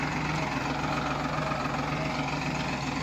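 A tractor engine runs steadily in a field where chickpeas are being sown, a low, even rumble at moderate volume with no breaks or changes.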